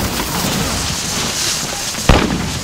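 A single grenade blast bursts out sharply near the end of a busy Call of Duty Modern Warfare firefight, standing above the steady background din.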